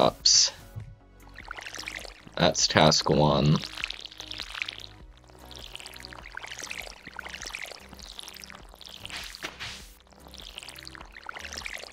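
Watering crops with a watering can in the Stardew Valley video game: brief splashy pouring bursts near the start and around the two-to-three second mark, with a person talking over background game music.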